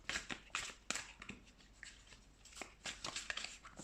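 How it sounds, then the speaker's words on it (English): Soft, close-up riffling and flicking of tarot cards being shuffled, in quick irregular bursts with no talking. "Let's shuffle some tarot cards."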